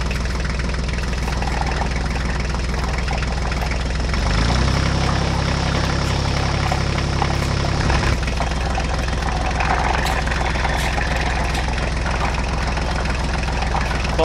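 A mini tractor engine runs steadily at a cowshed, a loud low idling rumble with knocking vibration that shifts in tone midway and keeps going throughout with no voices.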